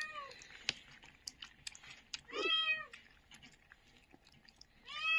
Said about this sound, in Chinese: 小猫也在叫啊